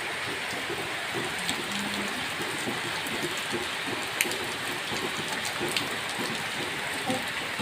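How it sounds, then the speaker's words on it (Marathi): Rain falls outside a house at night, a steady moderate hiss with scattered louder drips and taps, continuous and fairly close, without any talking. "उकल भारी वाटतंय पाऊस बघायला"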